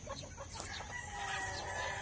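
Several chickens and a rooster at a farmyard pen of different owners' fowl, with overlapping crowing and clucking calls close by over a steady outdoor background.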